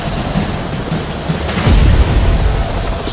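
Loud, rumbling rotor noise with a heavy low thump that swells midway, steady and close, as a rescue helicopter hovers overhead during a sea rescue winching operation in Britain.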